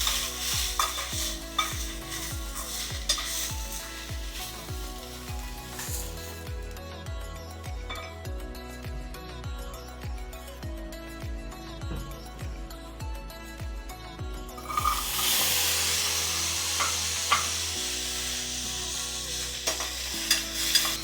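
Mushrooms and mixed vegetables stir-fried in oil with salt, a continuous sizzle broken by repeated rhythmic scraping strokes of a spoon in the pan, with steady tonal sound behind.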